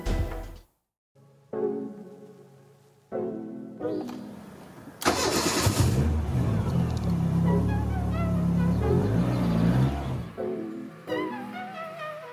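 A Renault Clio 16S with the F7P engine cranks briefly, stalls into silence, then cranks again and catches, settling into a loud, close, rough idle with small revs that rise and fall.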